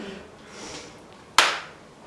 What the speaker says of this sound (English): Can you clap? I'll clap for you.